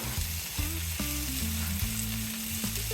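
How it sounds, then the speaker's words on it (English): Yellow and red peppers sear in a pan with a constant sizzle, while low tonal music plays beneath the frying throughout. "And I'm gonna sear them down for maybe 5 minutes."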